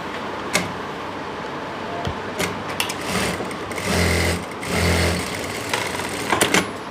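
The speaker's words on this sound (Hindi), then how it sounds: "यहाँ पे ऊपर की तरफ सिलाई लगा लेंगे" A sewing machine stitches a pocket piece onto the front panel of palazzo pants in short bursts of whirring, with pauses and clicks between runs and two longer steady stitches near the end.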